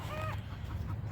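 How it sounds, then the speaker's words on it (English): Outdoor fowl squawking in a short loud burst, a rooster- or goose-like honking call that fades into a steady low background rumble, with no talk. "Birds."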